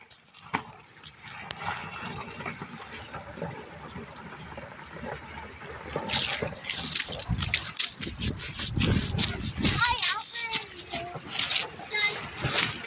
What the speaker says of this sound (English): 2008 Chevy Malibu doing a creek crossing.